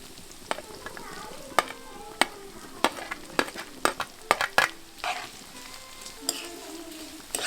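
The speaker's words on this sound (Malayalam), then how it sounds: "ഇതെല്ലാം കൂടെ നന്നായിട്ടൊന്ന് മിക്സ് ചെയ്ത് വഴറ്റിയെടുക്കുക" Crushed garlic, ginger and shallots sauté in a pan with a soft, continuous sizzle, punctuated by sharp clicks and scrapes from stirring.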